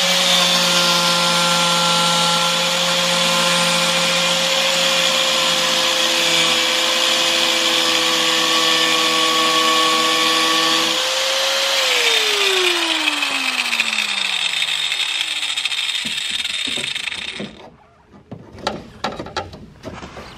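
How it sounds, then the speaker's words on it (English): An angle grinder trims the rear valance of a Nissan R34 GTR, a loud steady high whine that holds, then spins down and stops, followed by a few light clanks. "mark with the Sharpie and we'll hit it with a grinder"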